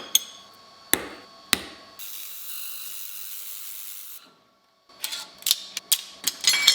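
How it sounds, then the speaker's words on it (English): A hammer strikes a welded steel piece to knock it out of square, with three sharp separate blows, then a hissing pause and a quick burst of rapid metallic hits, close and loud. "Here I'm gonna try the pre-bending and slightly hammer this out of square."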